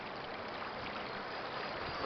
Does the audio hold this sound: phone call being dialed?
no